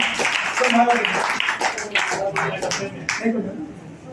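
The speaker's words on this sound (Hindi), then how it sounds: "तो जोरदार तालियां इनके लिए" At a Jain devotional gathering during a Bhaktamar vidhan, the audience gives loud applause for the helpers: sharp, scattered claps ring out over a speaking voice.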